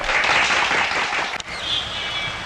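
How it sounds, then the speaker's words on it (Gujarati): A crowd claps loudly and continuously to welcome a performer at a Navratri artist audition, the applause dense and steady before thinning out and trailing off into a quieter hum. "અભિષેક આવી ગયો છે જોરદાર તાળીથી વધાવી લ્યો"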